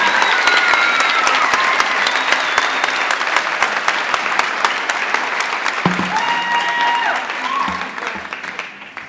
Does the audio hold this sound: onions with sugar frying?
no